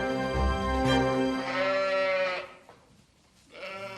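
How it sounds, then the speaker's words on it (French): A flock of about 100 ewes on a French sheep farm bleats loudly and close, with overlapping, wavering calls running almost throughout and a brief quieter gap near the end. "L'élevage de Flora compte 100 brebis"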